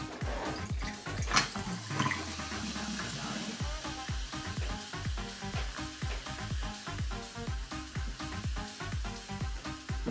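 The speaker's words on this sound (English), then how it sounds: "And fill up to 3/4 of the glass." Ginger beer pours from a can into an ice-filled highball glass, a steady fizzing, splashing stream that runs without a break for about ten seconds, heard close up with a background of regular low rhythmic thumps.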